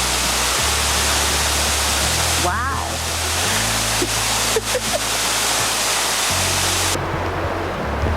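The Elwha River in Olympic National Park rushes in a loud, steady broadband roar of whitewater, with a brief exclaimed voice and a few clicks or footsteps over the constant flow.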